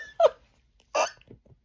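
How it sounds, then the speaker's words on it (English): Two sharp vocal hiccups, each a short clipped burst with a gap of about a second between them, followed by a few faint breathy sounds, heard close during a road trip vlog. "Hiccups."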